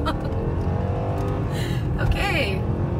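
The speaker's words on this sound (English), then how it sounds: "I think I should do a small acceleration run, but not too much." A 2006 Mercedes CLS 500 with its 302-horsepower V8 pulls away under acceleration, the engine note swelling and climbing in pitch beneath continuous road rumble while a person talks over it.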